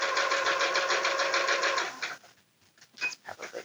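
A sewing machine stitches a pocket onto an apron in a steady, fast mechanical run that stops after about two seconds, then a few scattered clicks and handling thumps follow at close range.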